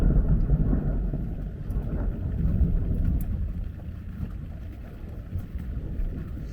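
Deep rolling thunder in a storm near the Croatian coast at Zadar, heard from inside a camper van, with low rumbles under a steady backdrop of rain and wind.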